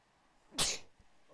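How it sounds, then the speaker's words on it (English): One sharp, loud human sneeze bursts out close up against a quiet background, followed by a faint soft bump. "I'm going to sneeze."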